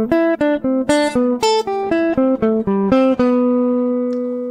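A clean electric guitar plays a slow jazz ii-V-I lick, single notes picked one by one, resolving to a held final note.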